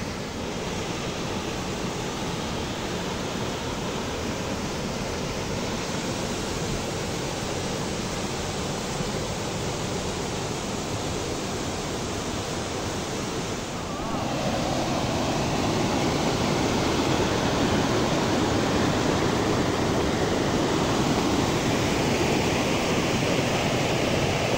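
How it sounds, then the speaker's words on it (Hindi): A waterfall pours down a mountainside near a forest path, a steady broadband rush that holds constant and then swells slightly louder partway through, with no voices. "ये वाटरफॉल पाइबे सुंदर लगे तो पहाड़ उपर पानी पूरा खसुची"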